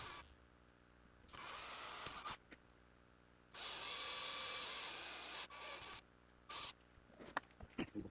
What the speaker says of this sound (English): here I'm about to drill some holes